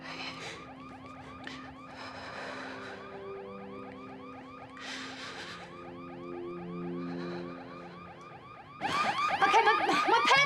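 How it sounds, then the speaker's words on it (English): Alarm ringing inside a store, a continuous electronic warbling tone that cycles steadily for about ten seconds, loud and close, growing harsher and louder toward the end, with no talk. "It just sounds like an alarm in one of the stores."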